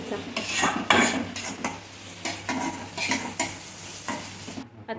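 Potatoes and spices are stirred in a frying pan under a constant sizzle, with a utensil scraping and clinking against the metal in a busy, irregular rhythm, close and fairly loud.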